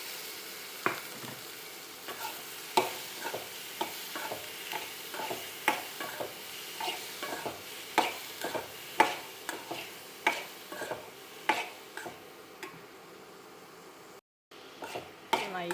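Ivy gourd tossed with chili powder in a hot pan sizzles quietly while a spoon scrapes and clinks against the pan in an irregular stirring rhythm, with a brief spoken word at one point.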